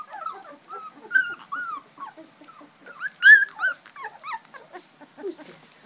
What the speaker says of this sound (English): 3 weeks old. Pack of puppies.